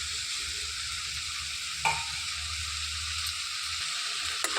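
Ground spice powder being stirred into a cluster bean curry in a cooker, giving a steady soft sizzle and scraping with one brief louder clack near the middle and another at the end; no voices.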